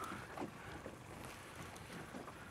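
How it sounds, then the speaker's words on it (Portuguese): A low, steady rumble of a motorboat engine over blustery wind and water while fishing, continuous and moderately loud with no voices. "Aquela lancha vai virar em cima do nosso peixe."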